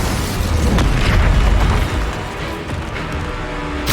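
An Incendio fire spell from Hogwarts Legacy erupts as a loud, sustained roaring burst of flame with no voices.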